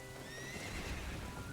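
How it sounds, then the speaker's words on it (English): A horse in The Legend of Zelda: Ocarina of Time gallops off with quick clip-clopping hooves and a whinny, faint and steady over a soft washing background with no talking. "We're getting this flashing sequence here of someone riding away on a horse."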